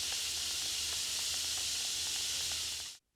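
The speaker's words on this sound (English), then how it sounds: "used an electric stove to get it steamy, and once things were at the best temperature, I actually got what I wanted:" Steam hisses steadily from a boiler nozzle heated on an electric stove, a loud continuous rushing spray with faint ticking underneath that cuts off abruptly at the end.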